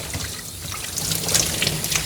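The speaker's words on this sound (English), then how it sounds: "so that I can rinse the top of his head without him getting any water in his nose" Water trickles and splashes steadily as it rinses the top of a Coton de Tulear dog's head during a grooming bath, a close continuous pouring sound that grows slightly louder, with no talking.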